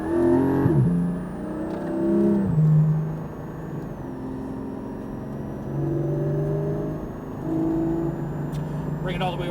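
A Porsche Cayman GT4 engine climbs through the revs on a track, a steady loud drone rising and falling in pitch with gear changes, heard from inside the car.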